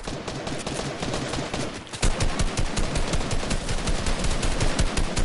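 Sustained rapid gunfire in an online duos shooter match, dense overlapping bursts that run continuously and grow louder after a brief lull, with no talking over it.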